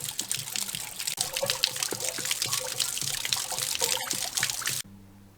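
Water draining from an RV water heater after its anode rod has been pulled, a steady trickling, splashing flow with small drips, close and constant before cutting off abruptly near the end.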